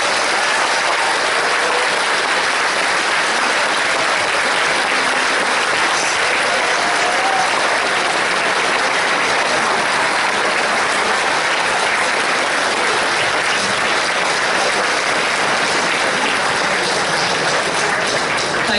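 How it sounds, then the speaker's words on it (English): A large hotel audience applauds at the 2014 Confuzzled convention opening ceremony, a dense, steady roar of many hands clapping that holds at full strength for the whole stretch with no voices breaking through. "So if you can give her a round of applause,"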